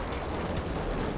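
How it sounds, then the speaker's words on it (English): An A-10 Thunderbolt Warthog's Gatling-type cannon, firing about 70 rounds per second, lets out one dense, continuous, loud roaring burst across the whole moment. "the most powerful Gatling-type cannon in the Air Force inventory. It's capable of firing 70 rounds per second"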